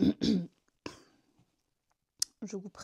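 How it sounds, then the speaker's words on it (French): A few short throat-clearing rasps and a soft cough break up quiet pauses, close to the microphone, with brief breathy vocal sounds between them. "les toux et les raclements de gorge qui vont être vraiment désagréables"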